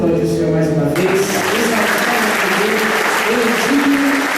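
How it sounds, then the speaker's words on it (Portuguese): Loud, close congregational applause fills a church celebration service, dense and sustained, while a sung or spoken voice carries on over the clapping at the start and keeps weaving through it. "Vamos aplaudir o Senhor mais uma vez."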